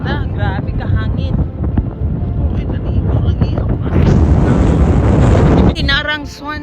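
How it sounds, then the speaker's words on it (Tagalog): Strong wind roaring across the microphone near the coast, loud and buffeting throughout with a harsher gust surge midway, while voices talk intermittently over it. "Grabe ka hangin."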